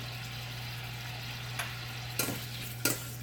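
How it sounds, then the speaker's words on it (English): Onions with minced garlic and thyme sauté in a pot with a steady, soft sizzle under a low hum, broken by three short scraping stirs near the end; no one speaks. "I'm going to saute this until the onions are translucent"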